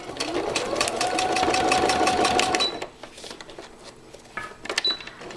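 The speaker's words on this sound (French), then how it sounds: "Donc là, moi, je vais reprendre ma couture." A sewing machine runs steadily for nearly three seconds, stitching a zipper into fabric, with a bright, fast needle rattle. It then stops, and there is quiet handling of the fabric along with a few faint clicks.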